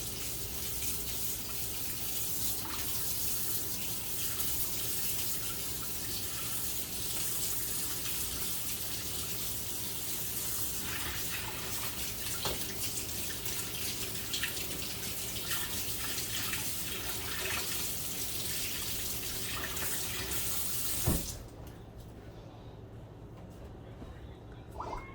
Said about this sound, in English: Rinse off your beaters or your whatever you're using.